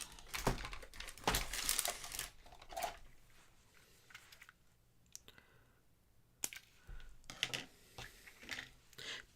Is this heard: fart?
no